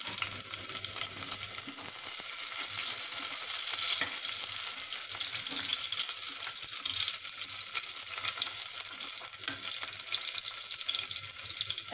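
Onions and green chilies sautéing in a pan for egg biryani, giving a loud, continuous close-up sizzle and hiss that holds steady throughout without any speech.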